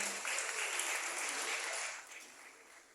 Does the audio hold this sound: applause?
yes